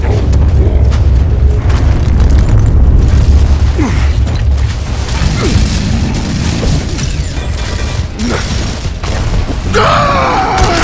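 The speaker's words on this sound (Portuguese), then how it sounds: "Joga uma granada lá dentro!" A grenade explodes with a deep rumbling boom during Gears of War combat gameplay, followed by low roaring debris and mechanical game effects, with a voice briefly heard.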